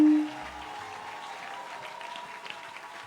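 A church congregation applauds Jesus with a steady, moderately loud patter of many hands clapping together in a worship hall, following a brief tonal sound at the start.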